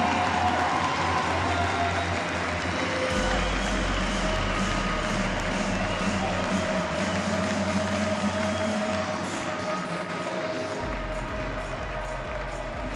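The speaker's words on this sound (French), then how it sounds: "Je crois vraiment qu'on peut applaudir très très fort Steve Darcy qui a donné tout ce qu'il pouvait." A tennis crowd applauds a player at the close of a match between Belgium and Switzerland, a long, even roar of clapping from a distant stadium audience that stays fairly faint throughout.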